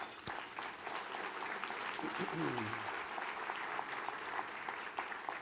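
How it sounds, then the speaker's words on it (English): A banquet audience claps for ambassadors at an awards dinner, a sustained broad wash of applause from a room full of people, steady and fairly distant, with a brief voice sound partway through. "I want to take a minute just to thank the ambassadors with a round of applause."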